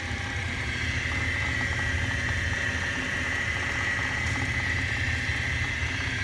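Hardinge DSM 59 super precision turret lathe, a 230V three-phase variable-speed machine, runs steadily with coolant flowing, giving a constant mechanical hum with a bright hiss layered over it, with no talking.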